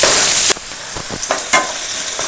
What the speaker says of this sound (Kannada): ಬೆಳ್ಳುಳ್ಳಿ ಶುಂಠಿ ಕರಿಬೇವು ಇದಿಷ್ಟು ನೀಟಾಗಿ ಫ್ರೈ ಮಾಡಬೇಕು